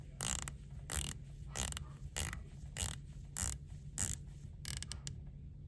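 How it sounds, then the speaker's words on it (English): Bezel of an Omega Seamaster 300M being turned, a close, quiet run of about nine evenly spaced sharp ratcheting clicks. "Bezel action."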